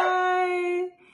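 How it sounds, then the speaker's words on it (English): A single dog howls close by in one long, sustained, tonal wail that holds steady for about a second before breaking off, with no talking over it. "It's a dog."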